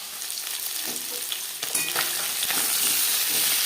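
Pieces of snakehead fish sizzle steadily in an oiled pan while cooking for a green-banana curry, making a dense, continuous frying hiss with a few faint pops and scrapes, close and fairly loud throughout.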